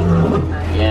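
A lion at Animal Kingdom gives a deep, throaty roar, loud and close, with a voice speaking over it.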